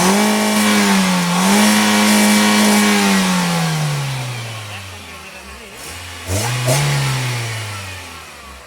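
A 2009 Hyundai Verna petrol car engine revs up close, climbing and holding before sinking back toward idle, then a second shorter rev rises near the end, loud and alone without talk.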